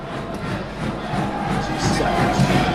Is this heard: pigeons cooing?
no